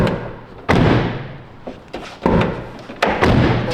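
A Cupra car door being slammed shut produces several loud, sharp thuds at irregular intervals, each decaying quickly, with no talk.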